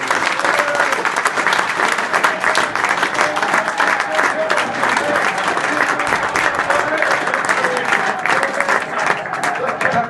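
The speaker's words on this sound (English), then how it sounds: "Can we give a big round of applause to Davy Russell?" Loud, sustained applause from a large crowd in a betting shop, dense clapping continuing steadily throughout without a break.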